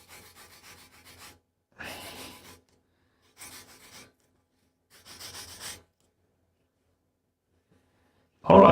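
Bursts of rough rasping as leather for a knife sheath is sanded or filed, four short strokes separated by silences, then a loud scrape at the end; close and dry, with no voices.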